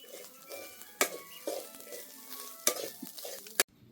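Coconut, garlic, onion and chili roast in a pan over a wood-fired stove, stirred with repeated close scraping strokes and three sharp clacks of the utensil against the pan, with no talk.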